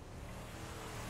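Car passing by in GTA V, a faint, steady engine rumble and road noise heard at low level without speech.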